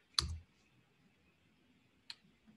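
Computer mouse right-click during a programming lesson, a sharp single click near the mic followed by a softer second click a couple of seconds later, in an otherwise quiet room.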